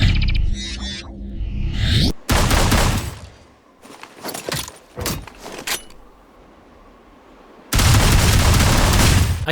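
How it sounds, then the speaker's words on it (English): An auto shotgun firing in the Serious Sam video game, several sharp loud blasts in quick bursts separated by quieter gaps, ending with a sustained burst of heavy fire. "I can describe these auto shotguns as Moorish. I always enjoy firing them"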